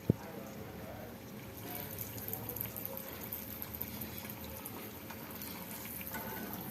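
Balls of athirasam dough, a sweet rice-flour snack, frying in hot oil, making a soft, steady sizzle throughout, with a small click at the very start and no one speaking.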